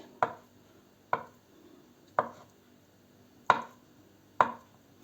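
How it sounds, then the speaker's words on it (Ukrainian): Five sharp knife strikes on a cutting board, evenly spaced and close, as five boiled eggs are chopped finely, with short quiet gaps between cuts and no talk. "Тепер нарізаємо ось 5 яєць. Дрібно так нарізаємо."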